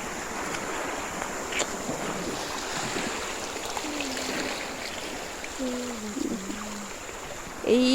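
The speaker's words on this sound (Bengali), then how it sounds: "এই দেখো আরেকটা ঢেউ, ছোট ছোট ঢেউ" Small sea waves wash onto the shore at dusk in a continuous soft rushing surge with some wind noise, and a brief voice near the end.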